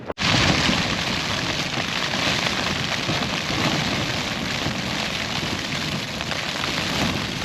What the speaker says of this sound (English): It's now raining quite heavy, as you can hear.